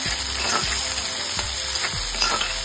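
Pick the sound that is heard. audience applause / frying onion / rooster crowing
frying onion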